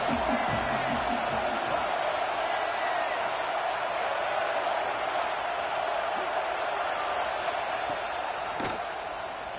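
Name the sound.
football stadium crowd cheering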